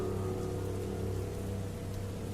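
Steady, dense rain pouring down at night near a highway petrol pump, a constant even hiss with a low rumbling undertone and no gaps.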